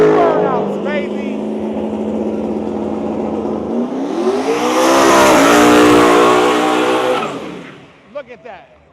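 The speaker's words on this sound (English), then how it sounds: "Smoky, dopey burnouts, baby." A stock Dodge Demon 170 does a smoky burnout, its engine roaring loud and close with a rising rev and squealing tires, an excited voice speaking over it before the noise drops away.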